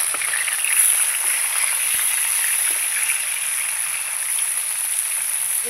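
Rohu fish fries in a pan, giving a steady, even sizzle at moderate distance with a few faint pops and no voices.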